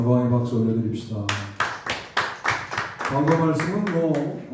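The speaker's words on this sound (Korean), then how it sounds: "박수 올려드립시다." A church congregation claps during a Korean Sunday worship service: a run of about eight sharp, evenly spaced claps in unison, with someone talking before and after.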